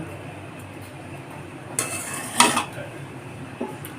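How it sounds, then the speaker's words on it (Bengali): Egg chicken fried rice with carrots being stirred in a pan, a few short scraping and clinking bursts of a spatula against the pan over a quiet background, with no talking. "খুব সাবধানে মেশাবো গাজরগুলোর সাথে যাতে চাল ভাতটা ভেঙে না যায়"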